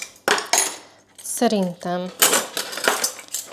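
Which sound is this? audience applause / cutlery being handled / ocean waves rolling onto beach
cutlery being handled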